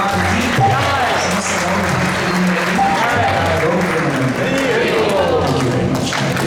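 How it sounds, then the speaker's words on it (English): A full, steady round of applause from a temple congregation after a lecture at ISKCON Toronto, loud and sustained with many hands clapping at once and crowd noise mixed in. "One more round of applause"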